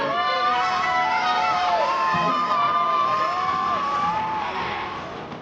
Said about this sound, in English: Simon Mahoney's WOW campaign soon attracts a crowd in Covent Garden.